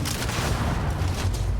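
Shotgun blasts in the space game Starfield, dense booming gunfire that rolls on continuously through a busy combat mix.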